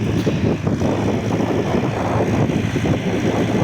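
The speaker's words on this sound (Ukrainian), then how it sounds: "Ось так працює трактор із двокорпусним плугом 2 на 25" A tractor works a spring field pulling a two-body plough, its engine giving a steady, loud low drone that holds evenly throughout without voices.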